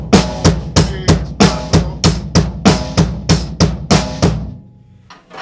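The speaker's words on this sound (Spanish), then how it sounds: "vamos a tocar solamente octavos en el bombo sin parar" Drum kit playing a steady groove of eighth notes on the bass drum with the snare on beats 2 and 4, about nine even, punchy bars of hits close and loud before stopping and ringing out.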